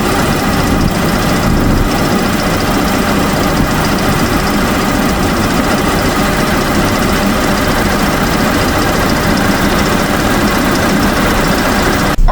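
A heavy equipment diesel engine with injector faults runs steadily nearby, a loud, constant low rumble and vibration that holds throughout.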